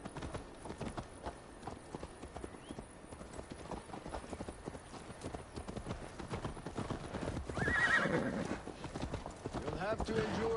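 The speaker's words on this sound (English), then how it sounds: "Mount up, Eivor. It's a long ride to Tamworth" A horse gallops in the Assassin's Creed Valhalla video game, with quick, rhythmic hoofbeats throughout and a loud neigh near the end, over ambient game sound.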